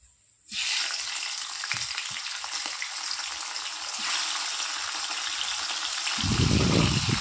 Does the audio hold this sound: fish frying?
yes